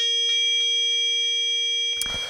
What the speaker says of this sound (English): It's this like kind of digital FM sounding pad where we're using operator. It's a sine wave with this like shorter envelope,